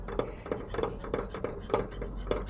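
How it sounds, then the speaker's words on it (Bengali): A metal khunti scraping and tapping against a hot pan while lifting a roti, in a series of short, evenly spaced clinks about every third of a second, close and moderately loud. "এই খুন্তি দিয়ে আমি এরকম উঠাবো।"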